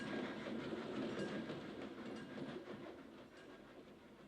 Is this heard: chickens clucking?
no